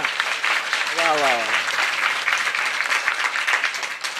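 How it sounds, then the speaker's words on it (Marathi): Audience applause at a kirtan in Shewalwadi, Manchar near Pune: dense, steady clapping from a crowd fills the whole stretch, with a brief tonal voice or instrument note rising through it early on. "ज्यांनी आज गायनाला साथ दिली त्यांच्यासाठी एकदा जोरदार टाळ्या होऊ द्या."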